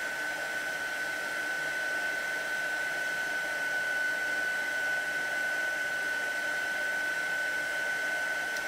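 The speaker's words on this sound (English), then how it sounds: "So we're just going to hold that heat gun still." A heat gun blows a steady, even roar throughout, with a constant high whine riding on the airflow, held in place to heat an embossed image on a handmade card. Nobody speaks over it.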